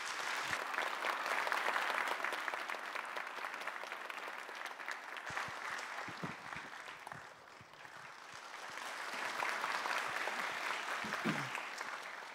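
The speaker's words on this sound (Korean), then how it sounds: "우리 강사님 앞으로 나오실 때 큰 박수로 우리가 환영하도록 하겠습니다" An audience in a church hall applauding warmly to welcome a speaker forward, sustained clapping that dips midway and then swells again, with no one speaking.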